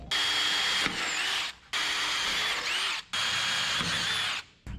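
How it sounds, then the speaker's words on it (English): A power drill bores a hole through a truck frame in three loud, close bursts of whining, with brief pauses between them. "we can just drill a new hole right there and put a through bolt."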